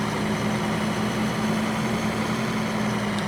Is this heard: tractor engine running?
yes